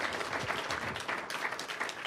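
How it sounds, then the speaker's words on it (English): Audience applause at an academic anniversary symposium thanking a guest speaker, a steady wash of many hands clapping throughout, moderately loud and continuous. "Big round of applause."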